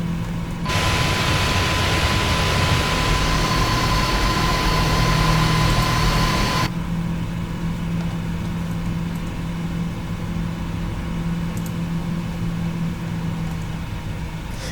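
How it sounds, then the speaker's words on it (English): Boeing 777-200ER jet engines in a flight simulator game give a loud, steady whining roar that drops suddenly partway through to a quieter, constant hum as the thrust is reduced. "I'm decreasing the engine thrust levers because a single engine is generating so much thrust"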